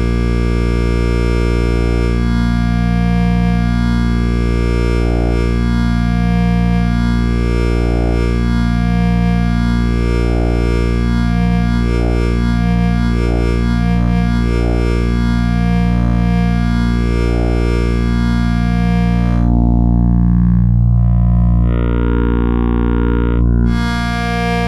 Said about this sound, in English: I'll plug in the LFOs, turn up the level in the VCA, and listen to this morphing